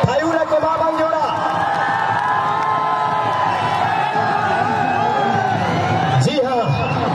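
Outdoor crowd at a football championship cheering and clapping for dancers, a loud continuous roar with whoops and shouting, and a voice over a loudspeaker through it.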